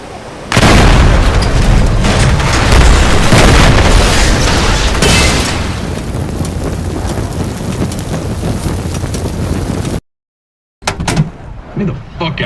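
Target vehicles blow up in a loud, sustained detonation: a heavy boom followed by roaring, crackling rumble for several seconds, then an abrupt cut to silence and scattered debris noise.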